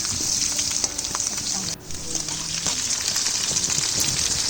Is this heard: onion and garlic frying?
yes